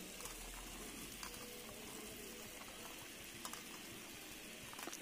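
Spicy baby potatoes with cumin cook in a pan, giving a low continuous bubbling sizzle with faint scattered pops and light stirring, quiet and without talk.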